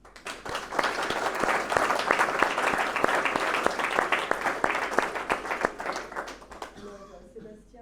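Conference audience clapping in a hall, crisp individual claps building into a steady round of applause at moderate distance, then thinning out and fading to a few scattered claps and murmurs at the end.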